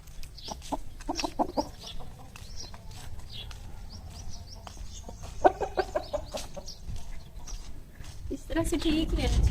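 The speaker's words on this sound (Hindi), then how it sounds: "ये मुर्गियाँ क्या करती हैं? ये आपस में जंग लड़ रही हैं।" Chickens scuffle and fight, with clucks and agitated calls mixed with rustling and scuffling, under frequent nearby talk in an outdoor yard.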